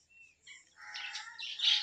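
Pet lovebirds chirp and call close by, a run of short, high tweets that grow busier and louder toward the end, with no one talking.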